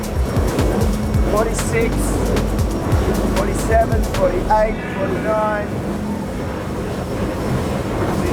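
An electric Axopar 25 boat motor runs at high speed, a steady loud rush of motor, hull and water noise with wind buffeting, while a voice calls out speed numbers over it.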